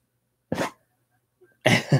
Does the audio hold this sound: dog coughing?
yes